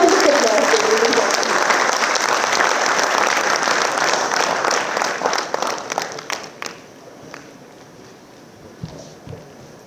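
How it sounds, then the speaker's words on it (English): An audience at the IIM Bodh Gaya convocation breaks into sustained applause, with dense clapping from a large hall crowd that thins out into a few scattered claps before falling quiet. "Let's welcome him with a warm round of applause."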